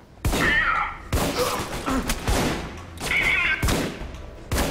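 Gunshots in the shooter game Alpha Protocol, four or five sharp loud cracks spaced about a second apart, each with a short ringing tail and some game sounds between them.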